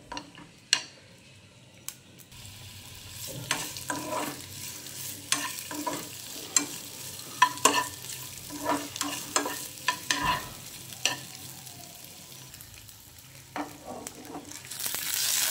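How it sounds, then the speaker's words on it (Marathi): Onions and capsicum lightly frying in a pan for paneer masala, a soft low sizzle punctuated by irregular scraping stirs and light clatter, close and moderately quiet, with no voices. "हलकीशी कांदे आणि शिमला मिरची ही फ्राय करून घेऊया"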